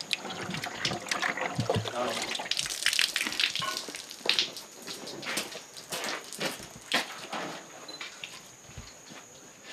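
Water sloshes and trickles as it is poured into pens of rubber latex on a rubber farm, a busy, continuous wet splashing with scattered knocks and crackles and faint background voices.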